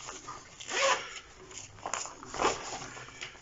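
A Decathlon Forclaz pouch is unzipped close up, with a couple of quick rasping zipper pulls separated by a brief pause, crisp and moderately loud.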